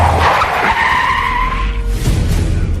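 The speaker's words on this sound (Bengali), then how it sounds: "পুলিশের গাড়ি এসে আমাদের ট্যাক্সির পিছনে সশব্দে ব্রেক কষল।" Tires screech loudly as a police car brakes hard and skids, the squeal sliding down in pitch before a low rumble of the engine remains.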